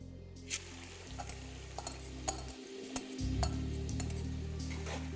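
Onion sizzles in hot oil with cumin and a bay leaf, a soft, steady frying hiss broken by a few clinks and stirring knocks from a pan, the sizzle growing fuller partway through.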